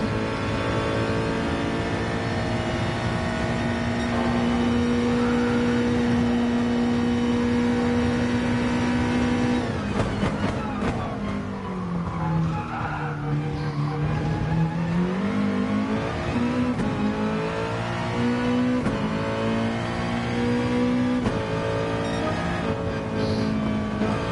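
Mazda touring race cars in a racing video game, Gran Turismo style, roar through a long stretch of sustained engine revving, pitch climbing and dropping through gear changes, with a dip and swell midway, loud and close with no talk.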